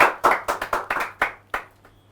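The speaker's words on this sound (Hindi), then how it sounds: "एक बार जोरदार तालियां यासिन साहब के लिए हो जाए" An audience claps in a sharp, uneven burst of hand claps that thins out to a few final claps and fades.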